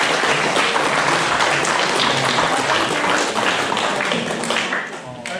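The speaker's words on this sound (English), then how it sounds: "We can give him a big round of applause" A room full of people applauds the winner at a best-lawn prize draw, with loud, dense clapping that holds steady for about five seconds before thinning out at the end.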